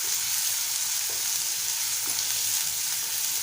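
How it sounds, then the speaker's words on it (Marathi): Curry leaves sputtering in hot oil in a pan for a Malvani-style sprouted lima bean dish, a steady loud sizzle and crackle running throughout with a couple of sharper pops, no voices. "कढीपत्ता टाकूया आणि छान परतवून घेऊया।"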